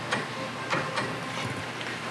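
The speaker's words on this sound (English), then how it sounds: "And that's how you torque the secondary." A torque wrench tightening the secondary clutch bolt to 43 foot-pounds during a Pro XP stage 2 clutch kit install, with a few sharp, separate metallic clicks and ratchet ticks spaced irregularly over a quiet background.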